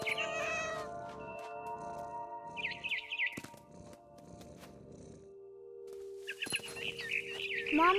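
In the video game What Remains of Edith Finch, a cat meows and caterwauls several times alongside bird chirps and tweets, mixed with game sound effects and soft ambient tones.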